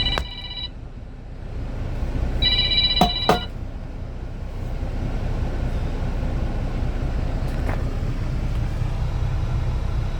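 A phone rings in two short electronic tone bursts inside a moving car, over steady road rumble, followed by a couple of sharp clicks.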